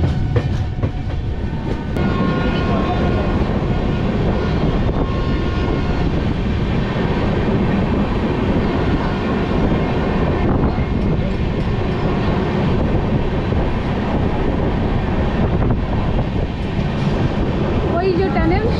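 The Kanchan Kanya Express rumbles along near Sevoke station in a loud, continuous roar of wheels and carriages, steady for the whole stretch with no break and a faint rhythmic clatter beneath.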